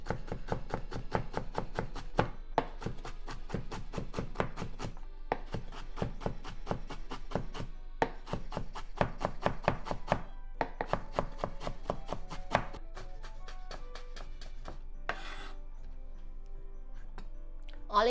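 Rapid, even knife strokes julienne carrots on a cutting board, a long run of crisp close chops in steady bursts separated by brief pauses, with no talking.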